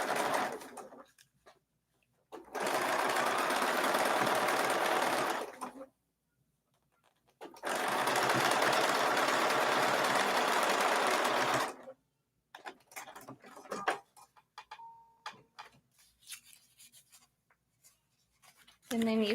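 A sewing machine stitches fabric pieces for a strawberry foundation paper piecing project in two long steady bursts of whirring, each a few seconds, separated by pauses with soft handling noises and quiet talk.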